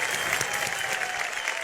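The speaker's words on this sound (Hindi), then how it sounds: "इनके लिए तालियां" Studio audience clapping steadily on a Hindi reality TV show, a dense, even wash of applause lasting under two seconds with no voices over it.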